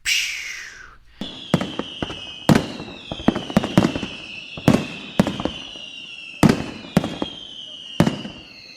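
Cartoon-style fireworks effects crackle in a quick series of sharp bursts, some with whistling rises, about a dozen pops spread over several seconds, loud and close.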